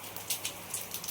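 Heavy rain pours down steadily, a dense hiss with scattered louder spatters from drops striking a surface close by.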